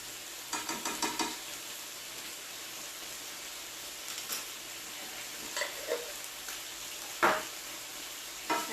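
Garlic being stirred in a pan for a keto chicken dish: a soft, steady sizzle with scattered light spoon clicks and scrapes, a quick cluster early on and a sharper knock near the end, with no talking.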